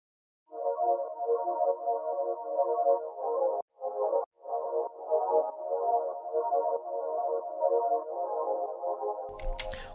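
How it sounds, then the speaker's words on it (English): A sustained synth pad chord in FL Studio throbs with a rhythmic quarter-note gated pumping, its volume chopping in regular pulses, ending in a brief noisy burst. "I set it down to 1/4 because I wanted that gated pumping effect."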